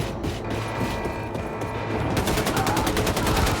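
Sustained bursts of automatic gunfire from enemy soldiers in a video game, dense rapid rattling that grows louder and more rhythmic in the second half, with no talk over it.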